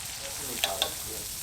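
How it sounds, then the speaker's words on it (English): Worms fry in hot oil with herbs and a little salt, giving a soft steady sizzle with a couple of brief louder pops. "then frying them in oil"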